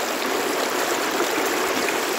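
Water rushing steadily down a stream, a dense, even wash of splashing and hiss that holds at the same loudness throughout, close by and with no voices.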